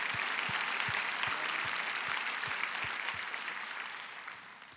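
A church congregation applauds steadily during a prayer meeting testimony, a dense even clapping that fills the room with a few distinct nearby claps, then slowly fades toward the end.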